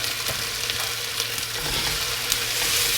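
Chicken and tomato for chicken machboos frying in a pan, a continuous close hiss of sizzling with faint scraping as the mixture is stirred, no voices.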